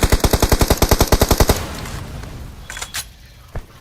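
A shooting video game plays a rapid burst of enemy automatic gunfire, about a dozen sharp shots in quick rhythm, then a few scattered distant pops and clatter over low ambient noise, with no talk.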